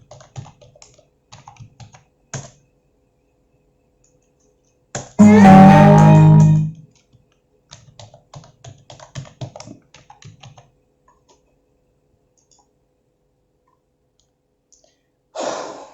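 A password being typed on a computer keyboard: scattered clicks and key taps in short bursts, with a loud breathy sigh-like sound in the middle and a final louder keystroke at the end.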